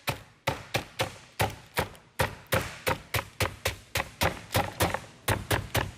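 Meat is pounded flat on a board with quick repeated thuds, about two dozen sharp close impacts in a steady, slightly uneven rhythm with no talking.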